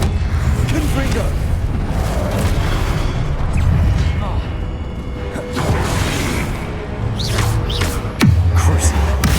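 In the video game Hogwarts Legacy, a Confringo fire spell goes off as a dense, booming explosion over continuous battle noise, with a sharp whoosh and a heavy thud near the end.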